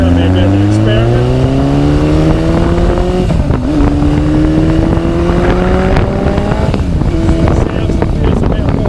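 A Yamaha XS1100 cafe racer motorcycle cruises in top gear at around 80 km/h, its engine a loud, steady multi-cylinder drone with a rising pitch as it pulls, mixed with heavy wind rush, recorded up close while riding.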